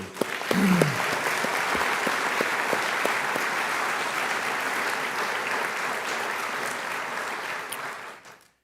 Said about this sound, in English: I just want to give them a round of applause before we get going